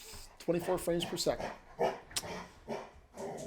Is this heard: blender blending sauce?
no